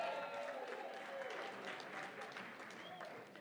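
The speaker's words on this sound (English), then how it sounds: "Would you give 143 a big round of applause?" Audience applause at a charity auction for the winning bidder, number 143, a steady wash of many hands clapping that holds at an even, fairly distant level throughout.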